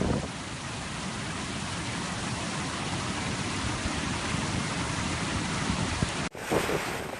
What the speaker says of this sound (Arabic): إلى أن انشق الغيم وانسكب المطر وسال يروي الأرض يحيي فيها الانتعاش من جديد